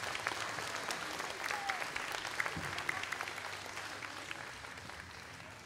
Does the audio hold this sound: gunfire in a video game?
no